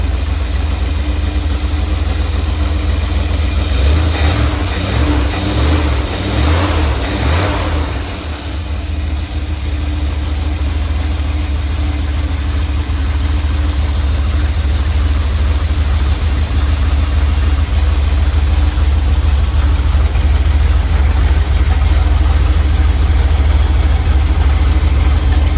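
A car engine idles steadily while warming up to operating temperature, a loud, continuous low rumble held for the whole stretch, with a brief rougher flutter early on and no talking.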